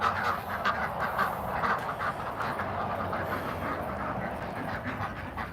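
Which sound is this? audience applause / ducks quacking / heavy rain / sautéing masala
ducks quacking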